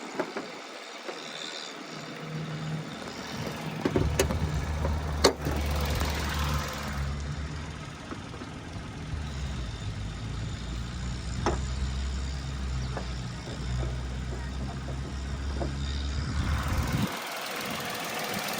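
A 2023 Tata Punch engine idles steadily, a low continuous hum with faint mechanical ticking, close and fairly constant for most of the stretch before quieting briefly near the end.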